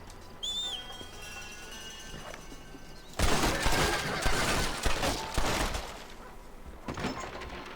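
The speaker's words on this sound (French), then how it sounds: "Ah, il faut tirer sur les planches." Gunfire blasting boarded-up barn door planks in the Red Dead Redemption video game on PS5, a dense burst of loud shots and splintering cracks starting after a quieter stretch, with faint game sounds and bird calls beforehand.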